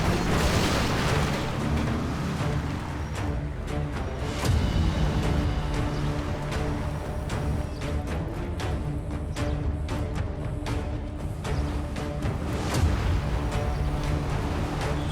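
Dense, noisy action from GTA 5 with repeated sharp gun bursts scattered over a continuous rumbling backdrop, loud throughout.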